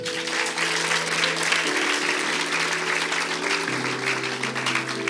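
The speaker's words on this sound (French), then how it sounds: "Acclamons Dieu, s'il vous plaît." A church congregation claps continuously for a few seconds, dense and even, over sustained low keyboard chords.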